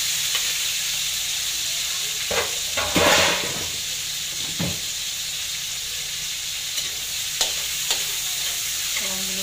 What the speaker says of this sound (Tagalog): Gigisa lang natin ng bahagya